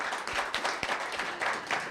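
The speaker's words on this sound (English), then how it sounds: "let's give a big round of applause to Sierra" Applause for Sierra at a Los Gatos town council meeting: a steady patter of many hands clapping at once, fairly close, with a few louder claps standing out.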